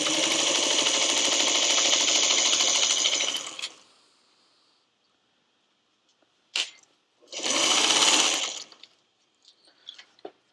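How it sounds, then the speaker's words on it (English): Sewing machine stitching pieces of a criss-cross quilt block: a steady, loud mechanical run for under four seconds, then quiet, followed by a short isolated tap and a second brief burst of stitching. "Then I'm just going to stitch like a thread to the right of that line that I drew."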